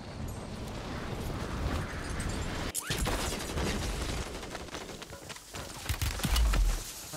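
Rapid gunfire in the Call of Duty Warzone 2.0 video game during a Resurgence match, with bursts and cracks over a dense, busy game mix, including a sharp loud shot near the middle and heavier impacts toward the end.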